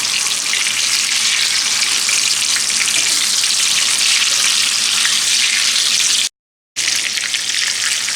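Fish pieces frying in a pan, a loud continuous sizzle with a constant crackling hiss, broken once by a brief silent gap before the frying resumes.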